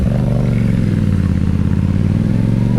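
A motorcycle engine close by, loud and steady, with a rough throbbing note and a slight rise in revs as it pulls off, no talk.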